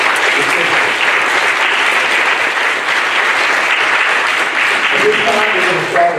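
An audience at a school board meeting applauds, a dense steady clapping from a full room that carries on for several seconds with little variation.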